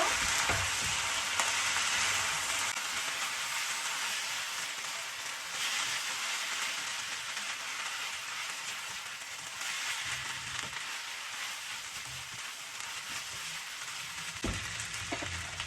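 Vegetables and seafood with soy sauce stir-fry in a wok, giving a steady loud sizzle with occasional clinks and scrapes from stirring, and no one talking over it.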